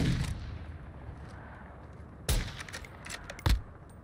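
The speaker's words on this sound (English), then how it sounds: "This gun really ain't meant to shoot this far." Gunfire in Call of Duty: Modern Warfare II Ground War, with a loud close shot, another sharp report a second later, and a fading boom at the start against quiet battlefield ambience.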